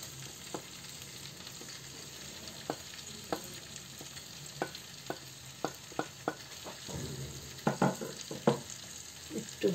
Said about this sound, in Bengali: একটু হালকা নাড়া দিয়ে নিই